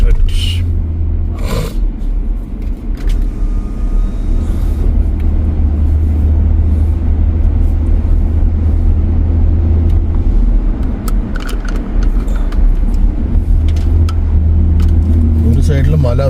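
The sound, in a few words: car driving on road around a dam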